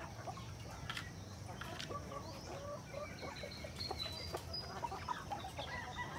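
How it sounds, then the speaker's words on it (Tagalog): Native chickens and roosters on a Filipino farm cluck steadily throughout, with a few sharper calls, over constant low background noise and no talk. "kalmado yung mga manok natin."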